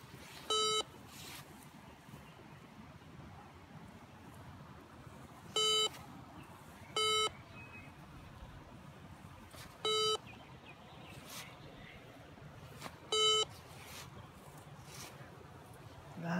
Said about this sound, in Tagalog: See, aluminum. It's detecting aluminum now.